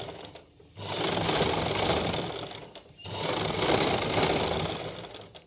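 A sewing machine stitches cloth in two long, steady runs, a loud close motor whir with a brief pause between them and no talking.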